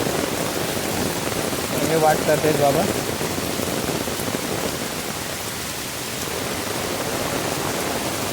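Steady rain pours down outdoors during heavy Konkan monsoon flooding, a broad continuous hiss that runs unbroken through the whole stretch, with a person speaking briefly over it.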